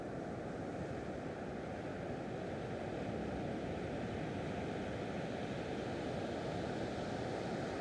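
Ocean waves wash in a steady, soft surf hiss, faint and distant, with no voices over the continuous roar.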